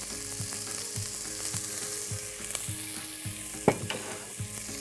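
Leeks and shallots sizzle in olive oil as the base of an artichoke and prosciutto risotto, a continuous close frying hiss with rhythmic stirring scrapes and one louder knock near the end.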